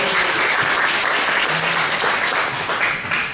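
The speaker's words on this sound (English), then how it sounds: "so let's give her a round of applause" Loud, close audience applause in a congregation setting, a thick continuous roar of clapping hands that stays strong for over three seconds, with a faint voice briefly underneath.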